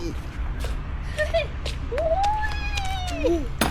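Cat meowing several times on a trip to Bang Saen, rising and falling calls at moderate distance over steady background noise, with people chatting nearby.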